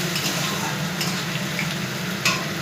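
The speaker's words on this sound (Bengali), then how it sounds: "এরপর তেলের মধ্যে গাজর, পেঁয়াজ এবং লঙ্কা কেটে দিয়ে দিতে হবে।" Carrot, onion and chilli frying in hot oil give a steady, close sizzle that runs the whole time, with light stirring scrapes in the pan and no talking.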